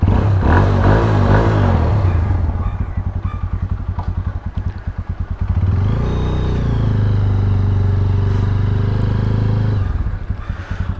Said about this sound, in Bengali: একটু এক্সস্ট নোটটা শুনি আমরা গাইজ।